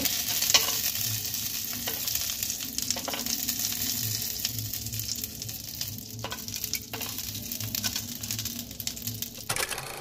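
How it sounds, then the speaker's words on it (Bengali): Cashews frying in melted ghee in a pan, a steady continuous sizzle with occasional scraping and stirring clicks, close and fairly quiet, with no one talking. "এবার আমি এতে প্রথমে কাজু একটু ভেজে নেব।"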